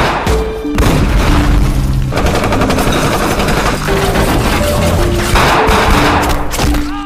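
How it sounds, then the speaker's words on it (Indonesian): A film shootout in which heavy booming shots and rapid automatic fire fill the scene loudly, over a tense musical score with sustained tones running underneath. "baku tembak pun terjadi."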